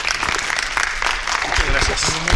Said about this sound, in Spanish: Un fuerte aplauso para el ponente.